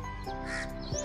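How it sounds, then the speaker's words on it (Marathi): A crow caws a few times close by over steady outdoor background noise, at a rice field during paddy sowing in a Konkan village. "कावळा आला."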